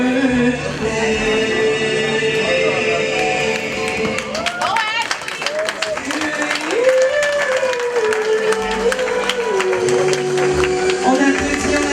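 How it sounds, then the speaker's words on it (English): Applause after a birthday song at a family celebration, steady clapping from a small gathering beneath background music and voices, continuing throughout. "On applaudit."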